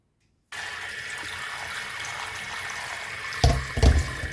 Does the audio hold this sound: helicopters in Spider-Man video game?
no